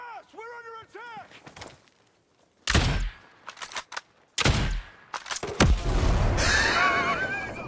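Loud bursts of gunfire and blasts from a Ghost Recon Breakpoint firefight, arriving in sharp clusters after a horse whinnies, then a dense rumbling roar, with a voice briefly in between.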